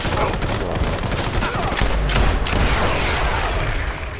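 Sniper rifle gunfire from the shooting game Sniper Fury rings out as a dense, continuous volley of loud, overlapping shots, with a heavier, booming burst partway through and steady noisy clatter throughout, with no voices.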